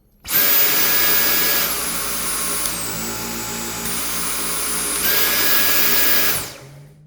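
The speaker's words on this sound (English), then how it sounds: "here is the intensity of the suction. You have the boost, the medium, and the low." A Dyson V10 Animal cordless stick vacuum motor whirs loudly and steadily, its pitch dropping and rising as it shifts between boost, medium and low suction before spinning down at the end.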